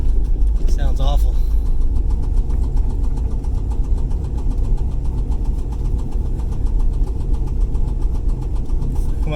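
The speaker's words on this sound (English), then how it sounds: "Oof, that's loud. We're thinking it's a rod bearing" A turbocharged IROC car engine with a suspected rod bearing knock runs loud and steady for the whole span, a rough continuous drone heard from inside the car, with voices talking over it.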